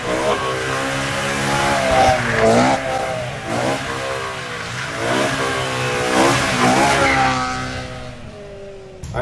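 A Dinan-tuned BMW V8 car doing a donut burnout, its engine revving loudly and repeatedly with wavering pitch as it spins, close and sustained before easing off at the end.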